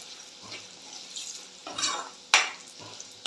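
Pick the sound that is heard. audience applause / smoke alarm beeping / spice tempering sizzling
spice tempering sizzling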